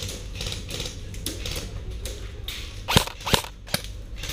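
Gunfire in the video game CS:GO on the Italy map: three sharp, loud shots in quick succession, each a crisp crack, over a steady bed of background game ambience.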